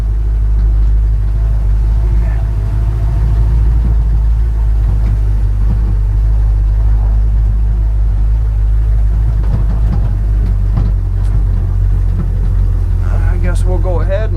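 A 1957 Dodge W100/200 Power Wagon truck drives with a car in tow, its engine giving a steady, loud low rumble throughout, with talk over it and some rattles near the end.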